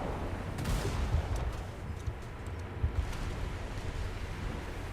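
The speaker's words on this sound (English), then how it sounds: "we'll just start firing at this Fletcher, I think it is, in the distance over there" Naval guns firing at long range on a Fletcher-class destroyer in War Thunder, several dull booms scattered over a steady rumble of wind and sea.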